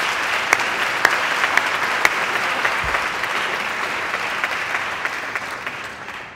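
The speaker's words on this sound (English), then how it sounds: "please join me in a brief round of applause" An audience at an educators' awards event gives a round of applause, dense continuous clapping at a loud, steady level with a few sharper individual claps, fading slightly at the end.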